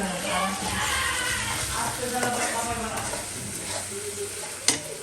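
Food fries in a pan in a home kitchen, a steady close sizzle with occasional stirring scrapes and one sharp clink, while people talk casually over it.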